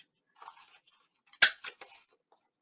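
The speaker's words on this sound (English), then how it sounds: "let's cut these edges again." Scissors snip through paper page edges for a junk journal, a few quiet, close cuts with one sharp crisp snip in the middle, otherwise near silence.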